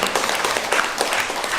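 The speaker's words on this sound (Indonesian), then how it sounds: "Untuk itu tepuk tangan dulu." Audience applause at a school in-house training session, a short dense burst of many hands clapping, loud and continuous.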